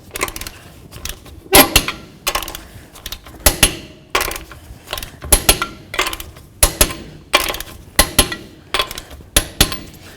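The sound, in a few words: torquing Toyota 4Runner lug nuts with a 21mm socket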